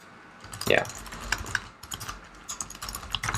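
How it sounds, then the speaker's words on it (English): Rapid clicking keystrokes on a computer keyboard while text is typed into a software developer tool, close and fairly loud, in uneven bursts with a brief voice sound near the start. "I can start typing"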